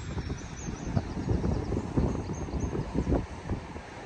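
Strong gale-force wind buffets an exposed wild camping spot on the Isle of Man, a steady low roar with gusting surges and rumbling microphone buffeting throughout, no voices.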